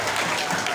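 Dense, steady applause from a crowd at an award ceremony honoring dictation and mathematics contest winners, a brief unbroken wash of clapping.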